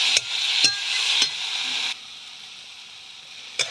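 Boiled eggplant frying in oil in a wok, with a steady close sizzle broken by a few sharp stirring knocks before it drops to a quieter hiss.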